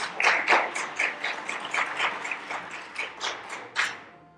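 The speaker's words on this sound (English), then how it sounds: "please applaud" A studio audience applauding at a comedic murder-mystery show, with scattered rhythmic claps that start fairly strong and thin out toward a few final claps.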